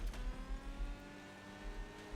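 The Lamborghini Centenario in the racing game Asphalt 9 Legends roars with a sustained engine note and rhythmic revving pulses, alone and fairly loud.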